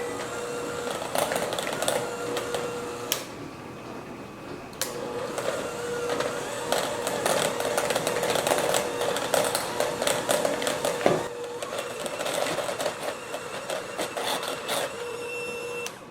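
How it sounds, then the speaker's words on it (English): A handheld electric mixer beats cream cheese for a pumpkin cream cheese swirl muffin batter, giving a steady motor whir with a rattling, fluctuating tone as the beaters hit the bowl, running continuously with brief dips in intensity. "I'm just going to get my handheld mixer out because it's just going to be a lot easier to put together"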